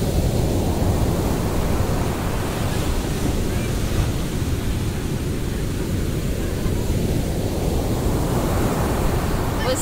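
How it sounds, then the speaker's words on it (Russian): Sea surf at Alanya, Turkey, roars continuously, a dense wash of breaking waves with a low constant rumble and no pause. "Вы слышите, как гудит море?"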